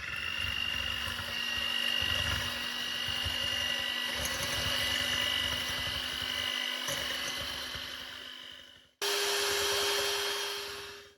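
Cake batter of sugar, salt and eggs or similar whipped with an electric mixer, a steady loud motor whine running for about nine seconds, cutting out briefly, then resuming at a higher pitch.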